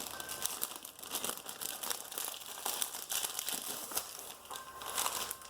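Crinkly wrapping on a package taped shut with a small sticker is pulled open, giving close, continuous crackling and rustling with scattered sharper crinkles.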